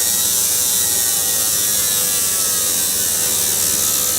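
A marine injector cleaner cycles an engine from idle up toward 7,300 RPM while testing injectors, producing a loud, steady, high-pitched mechanical whine and buzz that fills the whole clip without pause.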